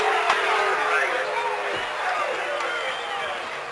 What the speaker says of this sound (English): I know our viewers can hear an upset Washington-Wilkes crowd